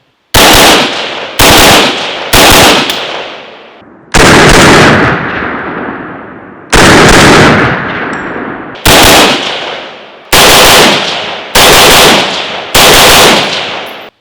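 A rifle fitted with a Geissele SSA-E trigger fires nine very loud, close shots at uneven intervals, each sharp crack followed by a long rolling echo that fades before the next.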